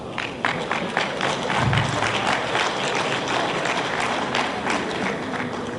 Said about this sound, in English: Thank you for clapping for ourselves.